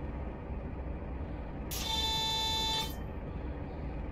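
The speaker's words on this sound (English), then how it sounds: "See what I mean about the AWS on these things? It sounds like it's blasting a fucking air horn in your face." AWS warning horn inside a train cab in Train Simulator Classic, a single loud, harsh blaring tone lasting about a second, cutting over the low steady rumble of the cab.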